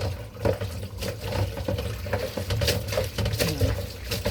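Running tap water splashes steadily over pansitpasitan (peperomia) stems and leaves being rinsed by hand, a continuous close wash with small knocks and clatters, with no speech.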